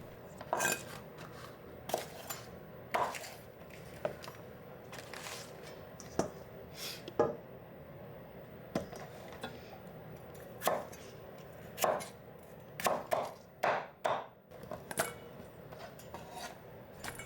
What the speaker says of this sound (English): Cut a Napa cabbage like this.